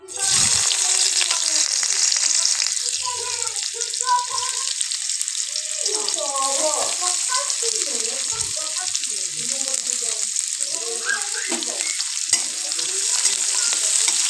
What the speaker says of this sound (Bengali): তারপর কড়ার মধ্যে তেল গরম করা হয়ে গেলে এবার দিয়ে দেব পেঁয়াজ কুচি